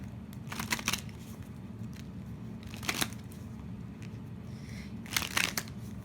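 Tarot cards are shuffled off camera in a quiet room, giving a few soft riffling and crinkling bursts spaced a couple of seconds apart, faint over low background noise.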